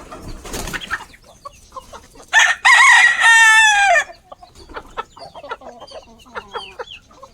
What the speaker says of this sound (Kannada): ಅವು ಬೆಳಿಗ್ಗೆನೆ ಕೂಗ್ತವೆ